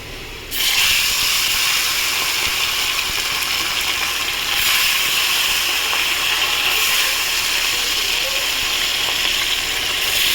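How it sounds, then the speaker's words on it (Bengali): Bata fish sizzling as the pieces go one by one into hot oil in a pan, a loud, steady frying hiss that starts abruptly and carries on throughout with no one talking. "তো দেখুন বন্ধুরা, আমি তেল বসিয়েছি। এবার এর মধ্যে আমি এক একে বাটা মাছগুলো ছেড়ে দেবো।"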